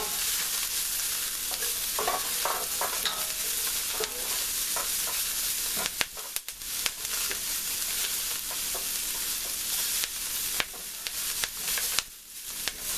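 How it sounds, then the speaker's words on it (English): A creamy pollock dish with buckwheat and broccolini being stirred in a pan, heard as a continuous loud sizzle broken by irregular scraping and clattering utensil strokes, close by and with nobody speaking. "All right, stir it up again."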